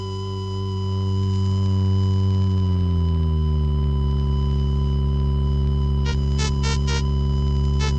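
Early Chilean electronic music piece: loud sustained electronic drones and steady tones whose low pitches glide and settle, with a burst of rapid pulsing high tones near the end, no voices.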